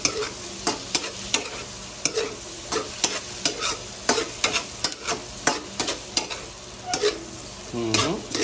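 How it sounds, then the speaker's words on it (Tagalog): A spoon stirs sour kamias into a simmering coconut-milk tulingan fish stew with pork fat, giving repeated close scraping and clinking taps against the pot over a steady bubbling sizzle, with no talk. "ilagay na rin natin yung pampasim, kamyas. Para umasim talaga yung ating tulingan."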